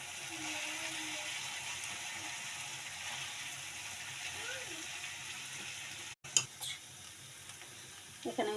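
Chow mein noodles fry in a hot pan with spices and oil, making a steady, close sizzle, with a faint voice underneath and a few sharp stirring clatters near the end.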